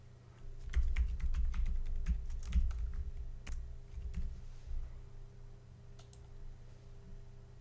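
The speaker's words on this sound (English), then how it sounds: "if I right mouse click, click rename" Quick clicks and taps of a computer mouse and keys rattle over a steady low hum, close and fairly quiet.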